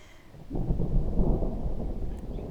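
Thunder rolls over a vegetable garden before rain, a deep low rumble that swells after a quiet start and holds steady, distant and sustained, with no one talking.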